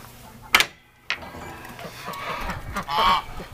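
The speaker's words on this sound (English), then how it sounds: "What a cute little duck." Ducks in a farm pen give loud honking quacks close by in a few separate calls, with softer farmyard bird noise filling the gaps.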